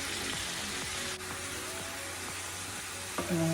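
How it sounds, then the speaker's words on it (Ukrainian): Pieces of meat sizzle and fry steadily in hot fat until browned, a constant crackling hiss with occasional stirring scrapes, close by. "І смажимо, щоб такий получився гарний рум'яненький колір."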